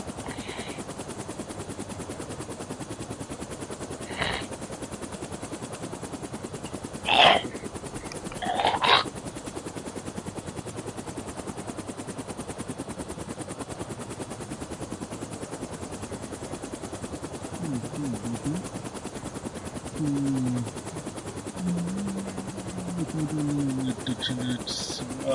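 A Chinook helicopter in a video game drones steadily throughout under faint game noise, with a few sharp bursts of gunfire near the start and some rising electronic tones later.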